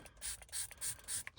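Liquid is sprayed in four quick, quiet bursts while a screen protector is fitted to a Jeep Wrangler JL, each short hiss evenly spaced and close by.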